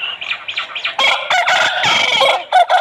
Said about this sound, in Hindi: आपको किस मुर्गे की अजान अच्छी लगी